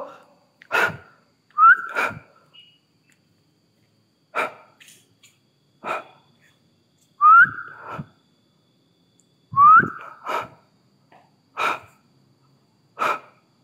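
Short whistled notes rising in pitch come in spaced bursts inside an abandoned villa, alternating with sharp breathy sounds and pauses of silence, close and fairly loud.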